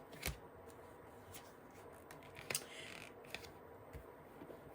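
Playing cards being handled and laid out on a surface, with faint soft flicks and a few sharp snaps spaced irregularly, quiet and close in a calm room without talk.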